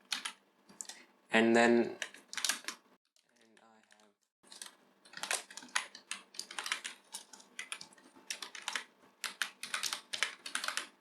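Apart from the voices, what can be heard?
typing code on a computer keyboard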